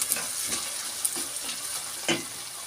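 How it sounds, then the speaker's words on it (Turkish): Onions sautéing in a pan while cooking purslane with lentils: a steady, faint sizzle with occasional soft stirring scrapes, heard alone. "Soğanlarımız sötelendi."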